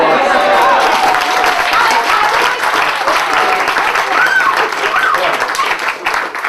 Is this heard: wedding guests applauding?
yes